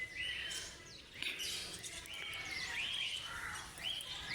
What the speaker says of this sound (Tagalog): Electos parrot. Come here.